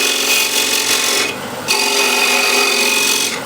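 Steel scraper drawn across a walnut picture frame, giving a bright, rasping scrape that pauses briefly, then resumes, close and steady.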